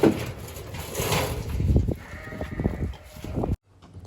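Sheep on a farm during shearing time bleat repeatedly at close range while a flock is loaded onto a trailer, their calls overlapping in a busy, noisy mix before cutting off abruptly.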